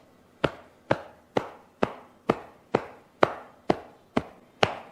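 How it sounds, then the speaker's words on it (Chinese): Armpit tapped with a hollow fist at moderate force: ten evenly spaced, sharp, close thuds, each fading quickly. "展露腋窝，用空心拳力度适中的敲打，"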